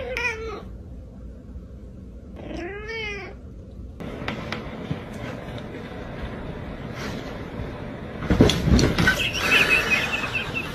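A cat meows in short, clear calls, first one close meow and then another a couple of seconds later, followed by rustling and scuffling noise and a louder burst of handling sounds near the end.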